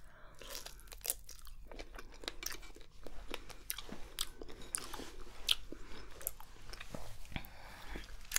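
Close, crisp biting and chewing of exotic fruit, with a steady series of wet crunches and smacks at an intimate, quiet level, without any talk.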